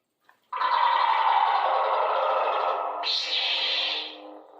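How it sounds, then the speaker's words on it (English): Saberspro Rogue Xenopixel lightsaber Hunter ignition, a small click then a loud buzzing electronic surge that holds steady, jumps to a brighter, higher hum around three seconds, then fades slightly, close and alone. "Hunter Ignition, honestly, that I love that setting just because of how intimidating it sounds"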